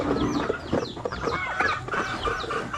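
Backyard chickens on a Batangas farm cluck and murmur continuously at close range, overlapping calls forming a busy flock chorus with no talking.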